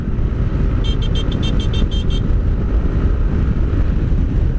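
A Yamaha NMAX V2.2 scooter engine hums steadily at riding speed with loud wind rush, a brief series of high electronic beeps sounding partway through.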